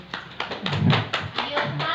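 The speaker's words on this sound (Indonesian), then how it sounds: "Kasih tepuk tangan buat Mbak Elizabeth" A small group of students clapping for a classmate at a high school session in Lampung, Indonesia, a brief scattering of claps mixed with some voices and room noise.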